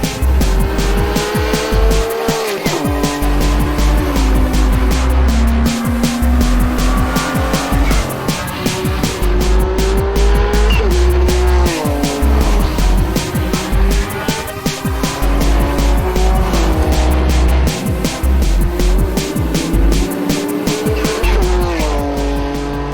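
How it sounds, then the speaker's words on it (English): A race car screams around a track at high speed, engine loud and close with repeated rising and falling revs as it shifts gears, tires squealing through corners, continuous throughout. "it was obvious just how fast the car was, overtaking everything on the track."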